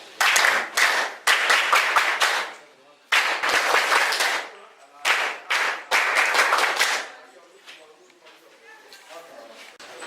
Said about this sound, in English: Clap your heart.